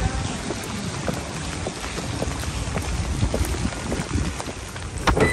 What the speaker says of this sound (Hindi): बरसती बारिश।